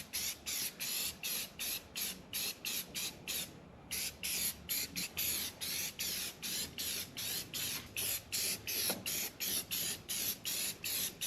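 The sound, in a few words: spraying rust converter onto rusty car parts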